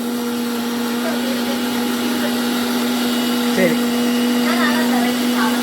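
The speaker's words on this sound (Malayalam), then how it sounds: "ഒന്നും കേൾക്കൂലോടോ മിക്സিന്റെ ഒച്ചല്ലേ" A kitchen mixer grinder whirs loudly and steadily throughout, a continuous motor drone with a strong hum, while faint voices talk underneath.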